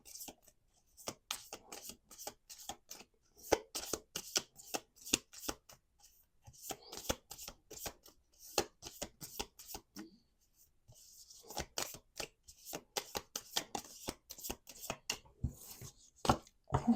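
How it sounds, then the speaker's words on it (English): A pocket love oracle card deck is shuffled by hand in rapid, crisp riffling bursts close to the microphone, broken by short pauses, with no talking over it. "We're going to do 2 more shuffles."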